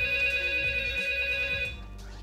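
A telephone rings with a steady electronic tone, loud and close, continuing for about two seconds before cutting off, with no talking over it.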